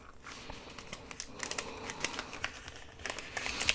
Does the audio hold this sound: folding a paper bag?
yes